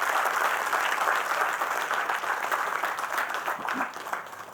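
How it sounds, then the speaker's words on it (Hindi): An audience at an online education talk claps steadily, a dense sustained applause that keeps a fairly even level and tapers slightly near the end. "इनके लिए जबरदस्त क्लैपिंग होनी चाहिए।"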